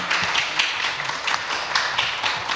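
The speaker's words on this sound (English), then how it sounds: "can you join me in a huge round of applause" Applause from a convention panel audience at Supanova Melbourne, a steady dense patter of many hands clapping together, fairly close and sustained with no talk over it.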